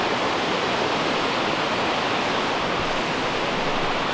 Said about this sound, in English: There's the last waterfall there.